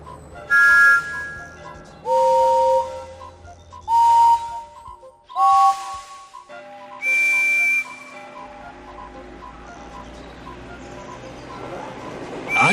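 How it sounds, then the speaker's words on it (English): A series of steam engine whistles sounds in a Thomas & Friends PC game, five loud, separate shrill blasts of about a second each with short gaps, the last held longer before fading into a quieter background. "Yes, my whistle sounds just like that."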